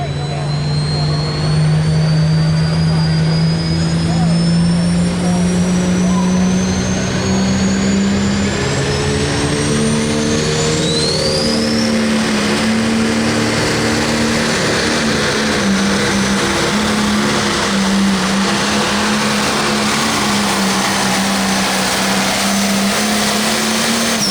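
A tractor in the Special Edition class at a 9,500 lb limited pro tractor pull in Monticello, Iowa, roars loud and steady and close by for the whole stretch, its pitch sliding slowly upward.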